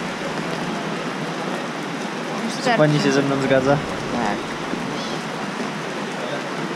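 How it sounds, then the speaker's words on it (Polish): Heavy rain pouring steadily outdoors in the mountain resort town of Dalat, Vietnam, a dense constant hiss throughout, with a brief exchange of voices in the middle. "Miało nie padać, a pada. Proszę bardzo, wygląda mi na deszcz. I to duży deszcz."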